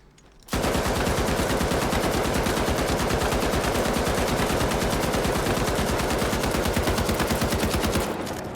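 M60 machine gun in the shooter game The Finals fires one long sustained burst, rapid evenly spaced loud shots running for about eight seconds without pause.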